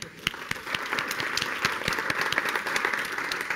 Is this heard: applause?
yes